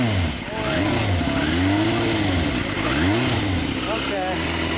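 A 1988 Yamaha FZR400R sport motorcycle with a stock engine is running and being revved, its pitch rising and falling in several blips over a steady idle, with people talking nearby.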